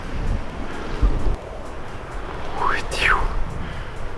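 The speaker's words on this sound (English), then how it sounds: "I'm trying to find areas where it's not windy because it's gusting today like anything." Wind gusts roar and buffet the microphone in a steady outdoor rush on the coast at Southsea, with a faint whistling sweep passing through near the end.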